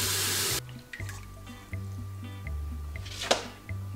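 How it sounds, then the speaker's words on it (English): Cold water runs from a kitchen tap, a brief gush that stops, then soft drips and light clinks of dishes or bottles in a quiet room, over a steady low electrical hum. "I'm gonna get some cold water."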